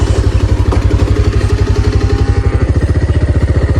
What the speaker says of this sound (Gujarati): એ રહ્યું આપણું 220, આ ઊભા આપણે બાઇક ચલાવવાવાળા ને એના પાછળ આપણે બેસી જઈએ.